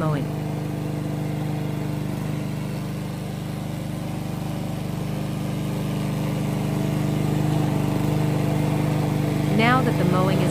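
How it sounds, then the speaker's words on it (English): A wheeled radio-controlled grass cutter, the VTW550-90, mows with its engine droning steadily at a constant, fairly loud level nearby, with a brief higher whine near the end. "Then you can start mowing."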